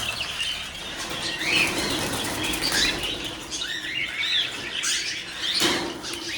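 Pigeons flap their wings in a loft, a dense near flutter with soft chirps and rustling, swelling and easing over several seconds.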